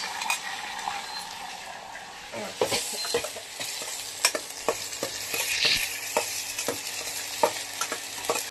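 Ginger paste sizzles in hot oil with cashews and raisins for a khichdi tempering, while a spoon stirs and scrapes the pan in sharp, repeated clinks over a steady frying hiss.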